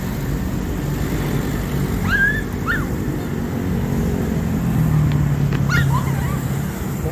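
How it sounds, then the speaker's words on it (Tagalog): A tied-up dog in Luneta Park, Manila gives a few short yips and whimpers amid steady outdoor crowd and traffic noise, the calls modest in level and scattered across the middle and end. "Yung aso nakatali dito."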